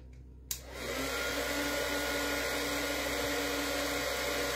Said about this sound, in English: It's going very fast now with the heat tool because it's warm, so it's a bit of noise